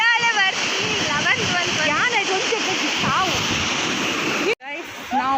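Sea waves wash and splash continuously along a beach, a steady broadband rush with a brief cut near the end, while several people talk and laugh over it.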